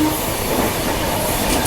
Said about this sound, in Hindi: यहाँ पे ट्रेन थोड़ा स्लो डाउन हो जाती है क्योंकि घाट सेक्शन है।